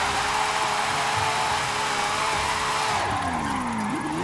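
A Lamborghini Aventador Superveloce from 2016, tuned for all-wheel-drive drifting in Forza Horizon 5, roars steadily at high revs with a continuous tire squeal, then its engine note drops and swoops as the slide shifts near the end.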